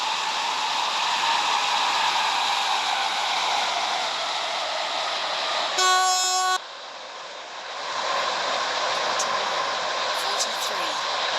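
A Class 508 train in a game rumbles steadily, a brief horn blast sounds midway, then the noise dips sharply and gradually builds again as it arrives at a station.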